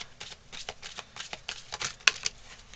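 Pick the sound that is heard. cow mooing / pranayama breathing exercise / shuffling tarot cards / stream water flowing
shuffling tarot cards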